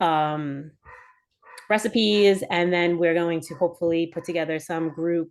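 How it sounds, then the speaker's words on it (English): A pet dog barks in the background during a fitness seminar, its short yips breaking through mostly under a woman's steady speech, with a brief quieter gap near the start. "I don't know if you hear my dog barking in the background."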